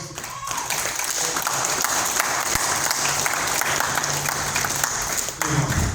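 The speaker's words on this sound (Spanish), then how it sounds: "Den un aplauso a Dios" A church congregation applauds loudly and continuously, dense clapping filling the whole stretch with a voice faintly underneath.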